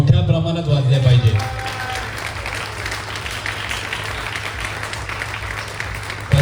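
An audience applauds the two finalists at a bodybuilding competition, with sustained clapping filling the hall after a brief spoken line at the start.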